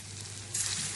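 Jackfruit kofta sizzle in hot oil, a soft steady crackle that briefly swells brighter near the end, faint and heard alone.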